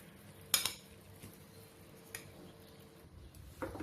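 A spoon stirs soaked flattened rice (poha) in a pan, with a few soft metallic clinks and scrapes at irregular moments over quiet background.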